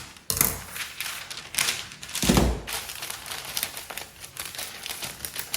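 Baking paper being crinkled, folded and cut with scissors to line a cake tin, close and loud in uneven bursts of crackling and snipping with brief pauses between.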